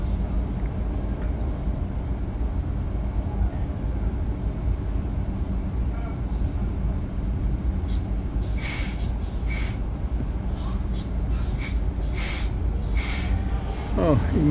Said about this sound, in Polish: i mija nas tutaj pociąg w kierunku Tarnowa